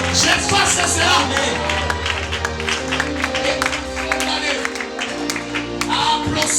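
Congregation applauding during a church service led by a pastor, dense clapping mixed with crowd noise and sustained tones, loud and continuous throughout.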